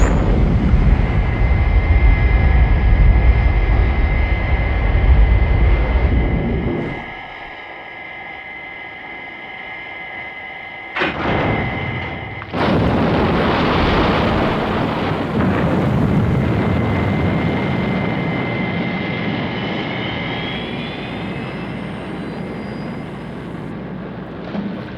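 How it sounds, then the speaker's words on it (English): Thunderbird 4, a small rescue craft from the Thunderbirds puppet series, launches with a roaring rumble and whine, a quieter lull, a sharp burst, then a sustained loud engine roar that slowly fades. "FAB, launching Thunderbird 4."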